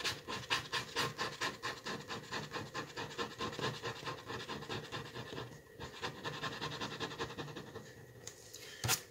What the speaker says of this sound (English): Now I take my plastic card and just scrape all the wax I have on the picture.